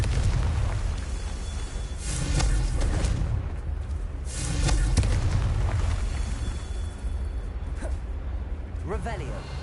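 Confringo blasting spell in Hogwarts Legacy, two big booming explosions a couple of seconds apart over a steady rumbling game soundscape, loud and close.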